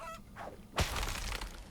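Chickens cluck in the Kingdom Two Crowns video game, in its Deadlands setting. A faint cluck comes first, then a sharper, louder burst with a crash-like edge, fading into low background ambience.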